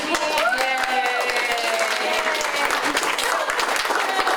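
Loud, sustained applause from a large audience fills the whole stretch, with a few cheers and whoops rising over the clapping.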